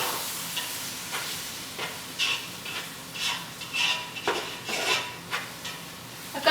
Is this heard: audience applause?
no